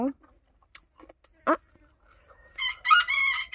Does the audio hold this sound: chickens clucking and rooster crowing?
yes